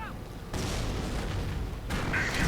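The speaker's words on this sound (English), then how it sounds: "More artillery going in" Artillery and heavy gunfire in a World War II strategy game, with two dense booming barrages that start abruptly, the second louder and sharper, heavy and continuous under short rumbling bursts.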